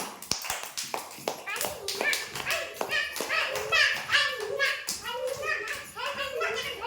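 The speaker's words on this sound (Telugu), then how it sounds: "క్లాప్స్ కొట్టండి మౌర్యన్కి." Children clapping for a classmate named Mauryan during a hopping game at an anganwadi preschool: a burst of quick, uneven hand claps close by, mixed with children's voices and chatter throughout.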